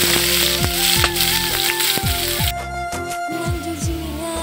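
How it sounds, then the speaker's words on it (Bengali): Chopped onions sizzle in a pan with cardamom and cinnamon while a Bengali katla posto fish curry is cooked, a continuous frying hiss running under melodic background music. "পেঁয়াজ ভাজা হয়ে গেছে"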